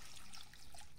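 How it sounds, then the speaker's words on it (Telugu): Water pours into a cooking pot holding chopped, washed elephant yam and greens, a steady close trickle and splash that runs without break and carries no voices. "దీన్ని కడిగేసి దీన్ని సరిపోని నీళ్ళు పోద్దాము"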